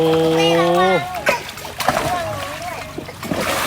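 Water splashes in an inflatable pool set up indoors for Songkran play, sloshing and spattering in short bursts right after a voice, with adults talking nearby.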